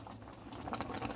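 A big pot of Nigerian afang soup with okazi leaves bubbles at a steady boil, a soft continuous gurgling and popping heard close but quietly for just over a second.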